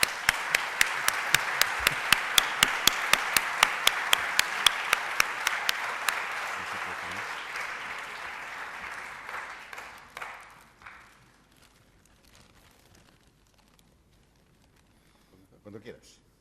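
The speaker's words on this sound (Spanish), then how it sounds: "pido para empezar, para que se caliente un poquito, un aplauso para Jürgen Donges" Audience applause at an economics talk, starting with rhythmic, evenly spaced unison claps that blend into a dense ovation, then thin out and fade to near silence before a voice briefly speaks.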